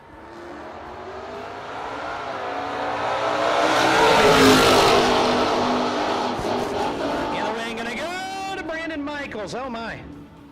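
A Camaro race car accelerates at a no-prep drag race, its engine swelling to a loud, close roar and then fading, followed by rapid high whooping sweeps near the end.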